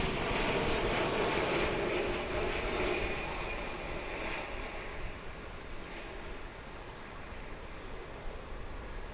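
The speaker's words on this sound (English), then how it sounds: "we're going to zoom right over here to see Korean Air flight come in from" Steady broad roar of a Korean Air Boeing 787-9 jet arriving at an airport from Seoul, fairly distant, loudest at first and then slowly fading.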